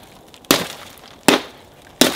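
Three sharp, loud cracking impacts, evenly spaced, as a hammer strikes and shatters Tesla laminated car glass, with quiet pauses between.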